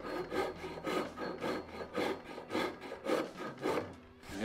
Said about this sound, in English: This is a Japanese style rasp. It has a coarse side and a fine side